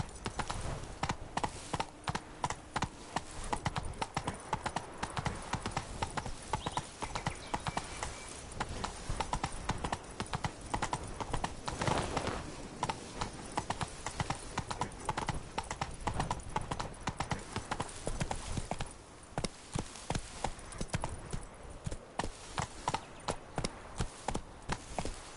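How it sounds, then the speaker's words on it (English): Horse hooves galloping in The Witcher 3: Blood and Wine, a quick continuous clip-clop rhythm at moderate loudness running throughout without pause, with no clear talk over it. "Run, Roach."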